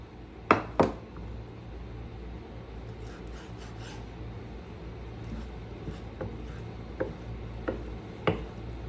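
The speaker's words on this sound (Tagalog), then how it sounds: "Hihiwain lang din natin siya ng maliliit, parang kagaya ng hiwa natin sa puso." Boiled chicken gizzard being cut into small pieces with a knife on a board for chicken bopis, a few sharp chops scattered through the clip over a quiet room hum, near and fairly faint.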